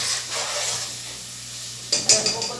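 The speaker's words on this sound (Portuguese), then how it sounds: "tô aqui fritando já" Food sizzles steadily in a hot pan with a bright hiss, followed by a few clinks and scrapes of stirring near the end.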